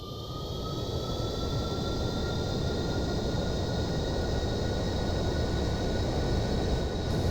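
A small Cessna airplane with flaps extended rolls down the runway on takeoff, its engine a loud, steady droning roar with a thin high whine that holds for the whole stretch.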